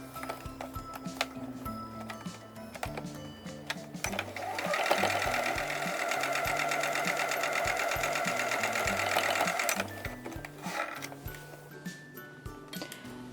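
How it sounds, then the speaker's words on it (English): A sewing machine stitches quilt block seams with a quarter-inch seam allowance, its rapid mechanical clatter running steadily through the middle, with slower ticking stitches before and after. "I'm going to sew those seams together with a 1/4 inch seam"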